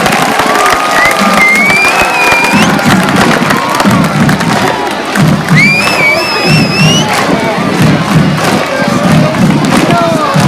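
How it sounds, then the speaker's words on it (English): A school-district crowd at a community project kickoff event cheers loudly and applauds, with children shouting over sustained, dense clapping that fills the whole stretch. "Let's give a big round of applause for Eco Eddie."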